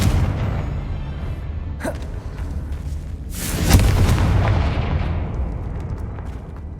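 Spells such as Expelliarmus and Confringo being cast in the Hogwarts Legacy video game, heard as a sharp crack near two seconds and then a louder, booming burst under a constant rumbling game soundtrack.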